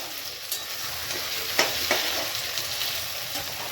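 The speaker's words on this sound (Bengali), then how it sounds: "আমি এখানে কাঁচা আলুকে কুচিয়ে রান্না করছি।" Chopped raw potato fries in a pan with a steady, close hiss of sizzling oil, broken by a few brief scraping stirs.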